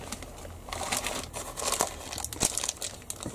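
Clear plastic bags from an Airfix Spitfire model kit crinkle and rustle close by in irregular bursts of crisp crackling, handled alone without talk.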